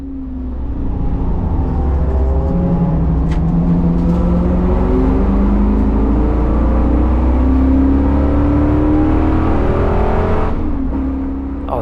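A big V8 Caprice with a T56 gearbox races around the Streets of Willow track, its engine roaring loudly and steadily with rising and falling revs through gear changes, close and continuous.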